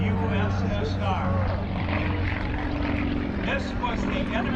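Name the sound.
Soviet-made Sukhoi Su-31 propeller aerobatic plane flying at airshow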